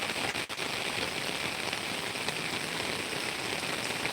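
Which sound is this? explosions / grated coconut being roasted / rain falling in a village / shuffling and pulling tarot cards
rain falling in a village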